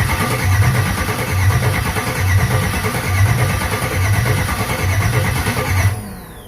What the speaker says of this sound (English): see if the car starts